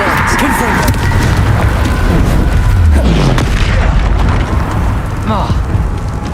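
Confringo blasting spell going off in the video game Hogwarts Legacy, a loud rumbling boom with sustained roaring debris over dense battle noise, with a voice speaking throughout.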